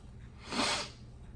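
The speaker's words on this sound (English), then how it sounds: "Child, I feel like I had to sneeze." A single short sneeze from a woman, soft and close, bursting out briefly in the middle of an otherwise quiet moment.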